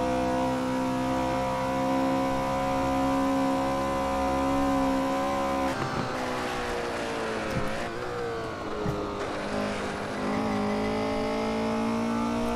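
1968 Porsche 908 LH race car engine lapping the Nürburgring, a loud sustained high-revving roar heard from onboard, with a brief drop in revs and gear changes midway before climbing again.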